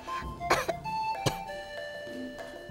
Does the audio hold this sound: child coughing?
yes